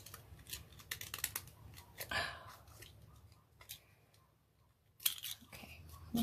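Scissors being tested for sharpness, making a series of soft, close snips and clicks at an irregular rhythm, quiet against light room noise.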